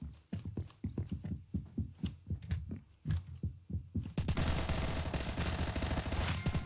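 Rapid gunfire from the video game Apocalypse Rising 2, a quick rhythmic string of close, punchy shots that gives way to a loud, dense burst of noise near the end, with no voices.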